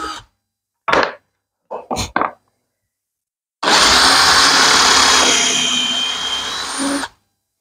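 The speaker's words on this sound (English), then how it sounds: "I just put a 6mm drill bit in there, and then I'm just gonna line it up with my hole" Working on a rubber wood coffee table: a few short knocks, then a power drill with a 6mm bit bores a hole into the rubber wood, a loud steady whir lasting about three and a half seconds before cutting off.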